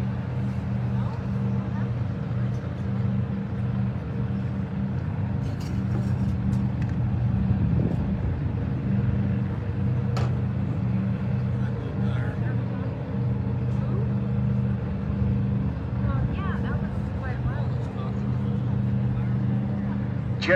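A Corvette's engine drones steadily through a drag racing final round, a loud low rumble persisting throughout under commentary from an announcer.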